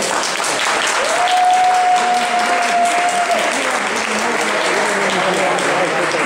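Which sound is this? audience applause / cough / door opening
audience applause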